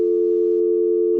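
A telephone busy signal sounds on a radio call-in line after a caller is dropped, a loud steady tone with no talk.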